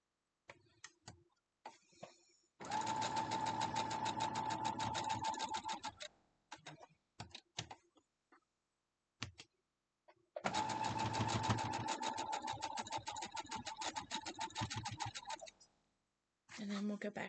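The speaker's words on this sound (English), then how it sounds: "So we'll head back over to the sewing machine." A sewing machine stitches a quilt block, running in two long steady bursts of rapid mechanical ticking, separated by quiet pauses with brief clicks and fabric handling nearby.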